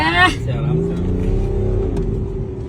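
A fully automatic car accelerates with a steady, rising engine drone that continues throughout, loud and close, while people talk excitedly over it.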